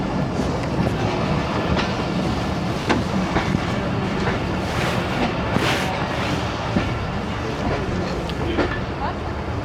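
Pakistani 13UP Awam Express passenger train pulling away from Gujranwala station, a steady loud rumble with scattered rail clicks and clanks from inside the carriage, faint voices in the background.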